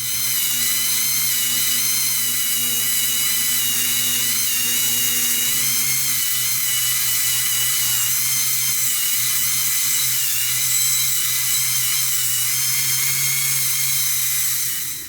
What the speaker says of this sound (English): I'm just going to use the 80 grit wheel and I'll clean them up